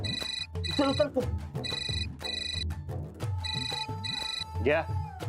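A telephone rings in a domestic scene from a Marathi TV serial, its electronic trill repeating in regular bursts, loud and close, with voices speaking around and between the rings.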